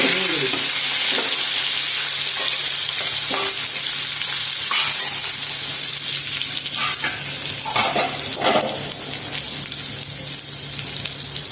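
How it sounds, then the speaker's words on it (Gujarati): Potatoes frying in hot oil with garlic and ginger paste in a Gujarati masala onion-potato dish, a loud steady sizzle throughout with occasional stirring scrapes and clinks, no talking. "હવે આપણે નાખીશું બટેટા. એને આપણે હવે થોડીક વાર ફ્રાય કરીશું."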